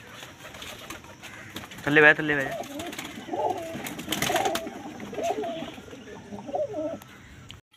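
Pigeons on a rooftop loft, including a black one and a red-eyed one, coo softly in the background while someone talks over them throughout.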